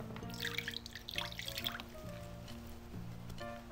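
Water splashing and dripping while something is washed with detergent in a children's home science experiment, light trickles and drips at close range with a faint tonal background, no speech.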